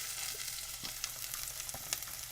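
Onions dropped into just over a tablespoon of hot oil in a pan give a steady, quiet sizzle with faint crackles and a few soft pops, with no voices over it.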